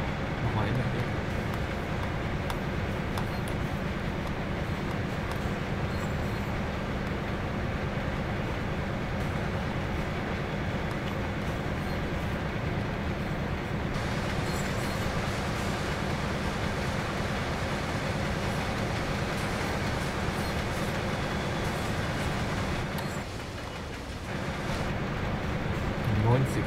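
A BR 204 diesel locomotive hauls a freight train up the Tharandt incline between Dresden and Chemnitz, a steady low rumbling drone with rail noise throughout, under intermittent speech in the cab.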